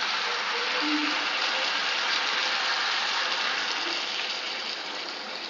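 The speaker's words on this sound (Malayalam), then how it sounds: "ഇനി നമുക്ക് ഇതിലേക്ക് ആവശ്യത്തിന് വെള്ളമാണ് ചേർക്കേണ്ടത്" Water pours in a continuous close gush into a pot of chicken curry, a steady hissy rush that fades slightly near the end, with no talk over it.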